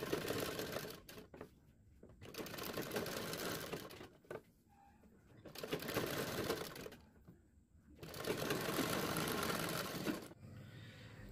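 Sewing machine running a loose basting stitch along a kurti neckline, in several sustained bursts of steady whirring close by, with short pauses between them.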